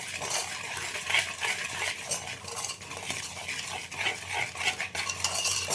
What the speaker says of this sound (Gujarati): ગાંઠા ન લે એવી રીતે આપણે મિક્સ કરી દેવાનું